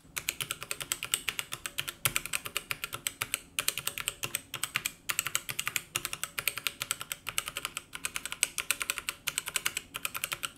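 Fingers type on a standard mechanical keyboard with keycaps, close and alone, giving rapid bursts of crisp clacks separated by short pauses.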